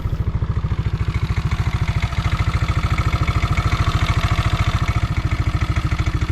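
Close by, a Yamaha N-max155 scooter engine idles with a steady, even low-pitched pulse and a light mechanical chatter, holding the same rhythm throughout.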